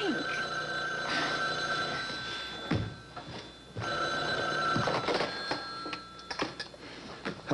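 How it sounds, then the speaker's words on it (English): An old-style telephone bell rings in two long bursts separated by a pause, set in a 1980s soap opera scene, moderately close and clear over quiet room tone. "Donna, forget about the phone"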